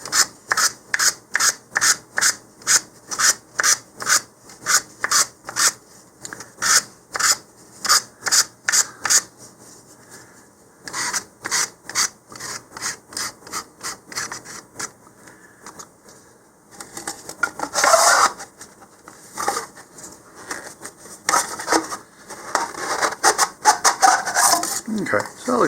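Sandpaper works down a cardboard model rocket body tube in quick, rhythmic rasping strokes, a tight run of regular scrapes that pauses, then gives way to slower, rougher rubbing passes close by.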